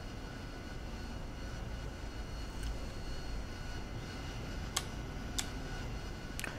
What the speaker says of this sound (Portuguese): Então eu soltei o park brake, a aeronave está rolando.